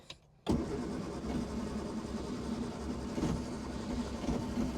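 A 1960 Triumph Herald engine cranking on the key after sitting, a steady churning starter-driven turnover that kicks in suddenly after a brief quiet moment and runs continuously, close and fairly loud.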